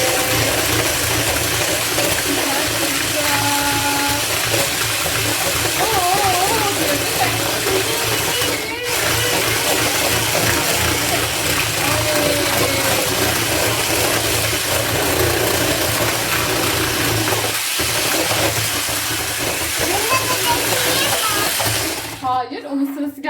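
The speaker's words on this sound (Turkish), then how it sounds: "şimdi bunları köpük köpük oluncaya kadar karıştıracağız" An electric mixer whisking carrot cinnamon cake batter until foamy, a continuous whirring motor drone with rattling beaters, loud and close, with voices talking over it before it cuts off near the end.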